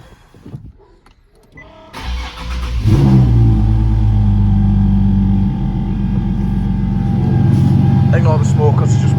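A Nissan 370Z with a rear-mount turbo engine fires up for its first start after a brief quiet moment, then settles into a loud, steady idle with a couple of rising revs near the end, and people talk over it.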